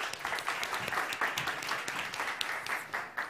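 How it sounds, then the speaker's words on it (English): An audience claps for a speaker taking the stage at a startup competition session, a steady, moderately loud wave of applause with no speech over it. "Give a big round of applause for our next speaker from Sequera."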